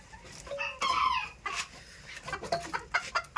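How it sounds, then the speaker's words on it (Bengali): Show-quality chickens and a rooster on a farm cluck and squawk nearby in short irregular bursts, fairly quiet, with no talking. "মোরগ তো আছেই।"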